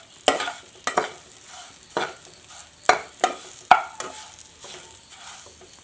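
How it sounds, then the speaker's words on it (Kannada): Semolina roasting in a little oil in a pan for rava upma, with a soft low sizzle under repeated sharp scrapes and clicks of a spoon stirring, irregular and close. "ಸ್ವಲ್ಪ ಎಣ್ಣೆಯಲ್ಲಿ ಸ್ವಲ್ಪ ಫ್ರೈ ಮಾಡ್ಕೊಬೇಕು"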